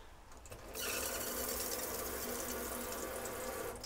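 Water runs steadily from the tap into the sink of a Volkswagen Grand California campervan, a close, continuous hissing splash that starts abruptly after a short quiet moment, with no talking.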